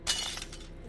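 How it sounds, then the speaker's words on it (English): Glass shatters in the video game Saw, one short bright crash that rings briefly and fades into a quiet room tone. "Broken glass."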